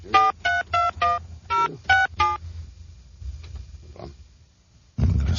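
Touch-tone telephone keypad beeping through seven quick, evenly spaced dual-tone presses on a working phone line, followed by faint line clicks and a sudden burst of noise at the end.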